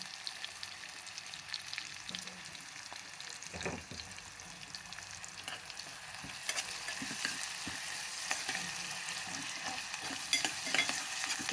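Onions fry with salt in a pan, a steady close sizzle with stirring scrapes and occasional clicks of the utensil, for a mutton chukka dish, growing slightly louder toward the end with no talking.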